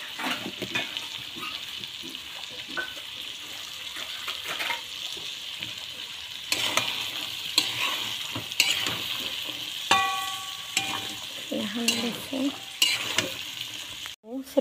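Cumin and ground chili fry in hot oil while being stirred for a lemon pickle, a steady close sizzle with scraping stir strokes and a few louder clinks and bumps.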